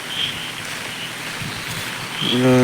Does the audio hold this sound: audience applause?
no